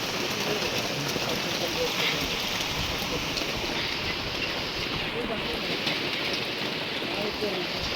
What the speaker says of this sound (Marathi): पाऊस इतका लागतोय ना की बासच